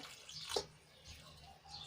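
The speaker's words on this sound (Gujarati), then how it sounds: "તો આ રીતે થોડું થોડું પાણી એડ કરતા જશું" Water is added bit by bit to a thin aloo paratha batter, producing faint, brief trickling splashes in a quiet kitchen, with short pours separated by near-silence.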